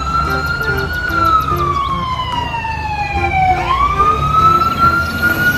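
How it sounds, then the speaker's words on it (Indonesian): A toy fire truck's electronic siren wails continuously, sweeping down in pitch and then rising again, loud and close over a steady background hum. "Nah, ada mobil pemadam kebakaran."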